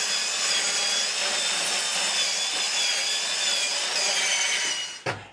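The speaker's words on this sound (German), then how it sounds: "schneide ich mal ein Stück von der langen Platte ab" A saw cuts steadily through a 2.5-metre wooden panel, trimming it to 34 cm width; the loud, close, continuous rasp runs for about five seconds before stopping abruptly with a short knock.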